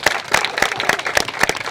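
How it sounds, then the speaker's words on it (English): An audience claps for Representative Emily Soto at a governor's bill signing, brisk scattered handclaps close by over the whole stretch, no speech. "Can we all please give Representative Soto a huge round of applause?"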